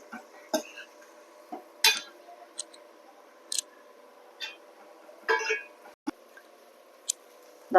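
A spoon scrapes and clinks against a pan while bread masala stuffing is stirred, producing scattered sharp metallic taps and short scrapes at irregular intervals over a faint steady background hum.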